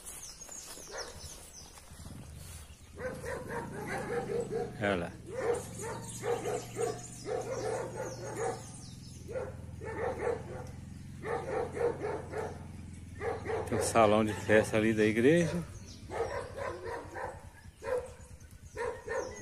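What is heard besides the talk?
noisy dogs barking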